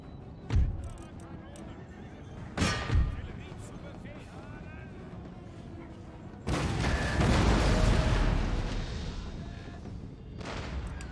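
Cannon artillery booms in an Empire: Total War battle: a couple of sharp distant blasts, then a longer rumbling volley, with horses whinnying and hooves nearby while someone talks.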